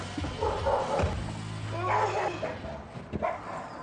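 A chihuahua barks and yaps in several short, loud, high bursts close by, with brief gaps between them.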